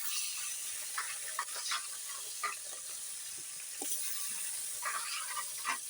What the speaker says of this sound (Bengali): এখন এগুলো ভেজে নিই